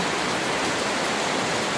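Heavy rain roars in a steady, broad wash of hiss, loud and constant throughout.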